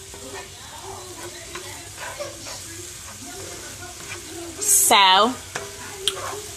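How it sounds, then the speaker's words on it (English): Ground beef browns in a pan for homemade chili, a steady close sizzle with soft scraping stir strokes. A brief loud high-pitched burst cuts in near the end, and a voice speaks briefly. "just keep stirring it around, mixing it in there real good like that"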